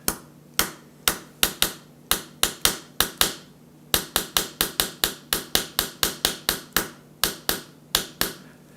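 Sharp, dry taps beat out the rhythm of Row, Row, Row Your Boat, close and crisp, in uneven clusters with a short pause midway, and no voice.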